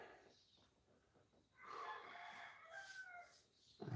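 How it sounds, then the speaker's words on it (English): A distant rooster crows once in the late morning, a faint drawn-out call rising over quiet outdoor background, with another bird sound starting at the end. "The roosters might be a bit dyslexic going off at this hour."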